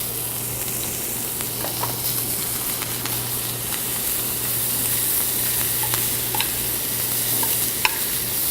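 Butter sizzles steadily in a pan with a whole sprig of thyme and a garlic clove, a constant close frying hiss with small pops and scrapes, no voices.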